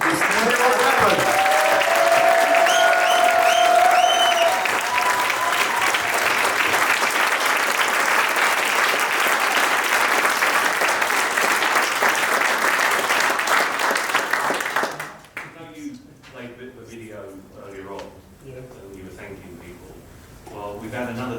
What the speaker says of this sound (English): Can we just have a massive round of applause for Jon?